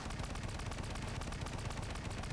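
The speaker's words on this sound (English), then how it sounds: "Fireworks." Rapid crackling bursts of explosions ring out in the Warframe video game, dense and continuous like rolling gunfire or fireworks, fairly quiet with no talk.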